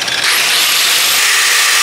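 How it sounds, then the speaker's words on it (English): An angle grinder cuts into a Tesla tire with a loud, continuous, high-pitched grinding roar that starts abruptly and holds steady throughout. "Angle grinder versus Tesla."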